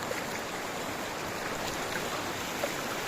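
A steady, continuous rush of flowing river water, a broad even wash with no voices and no breaks.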